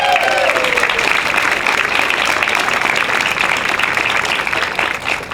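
Crowd at a library branch grand opening clapping in sustained applause, a dense even patter that tapers slightly toward the end.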